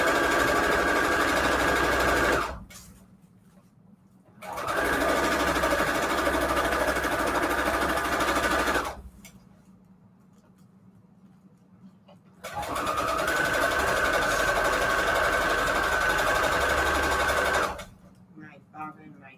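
A home sewing machine stitches string quilt patchwork in two long, steady runs of buzzing motor and needle, separated by short pauses, close and loud, with another quieter burst near the end.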